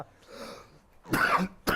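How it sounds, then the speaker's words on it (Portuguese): Two sharp, loud coughs in quick succession, preceded by a softer throat-clearing rumble, close up with no talking. "estou com uma tosse danada hoje."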